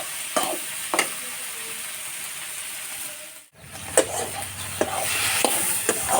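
A ground paste of ginger, garlic, whole cumin and chilli sizzles in a pan, with a steady frying hiss and intermittent spoon scrapes from stirring, briefly cutting out midway before resuming.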